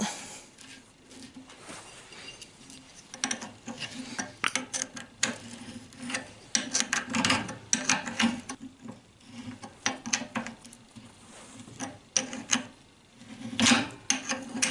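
Metal steering adjustment cap on a Citroën Traction 11 or 15, greased and screwed fully home by hand, giving a run of close, dry ratcheting clicks and threaded scrapes in uneven bursts.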